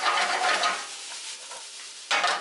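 Vegetables for rice sizzle and crackle loudly in a hot pot, the hiss swelling and fading as they are tossed, briefly quieting before surging again.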